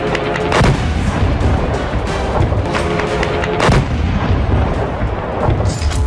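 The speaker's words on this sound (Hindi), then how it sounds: "यूक्रेन लगातार रूस पर बम बरसा रहा है।" Artillery fire and bombing in the Russia-Ukraine war: heavy booming blasts at intervals, several sharp reports standing out over a continuous rumbling, crackling din of distant gunfire.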